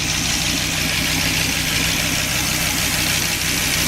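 Dodge Viper engine idles, a steady loud rumble with a low even throb and broad hiss, continuous and close, no voices.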